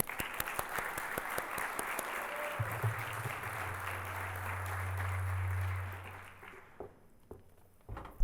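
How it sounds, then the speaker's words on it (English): Conference audience applause at a journalism gathering, a sustained wash of many hands clapping that gradually thins and fades toward the end, with a few scattered claps trailing off. "So let's give a big round of applause to Rosental."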